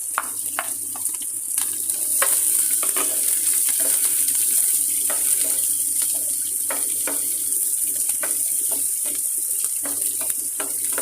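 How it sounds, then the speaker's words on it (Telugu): Thinly sliced onions frying in a pan for tomato rice, a dense continuous hiss and crackle with regular sharp pops throughout, close and steady, with no voices. "ఉల్లిపాయలను మాడకుండా ఎర్రగా వేయించుకోవాలి"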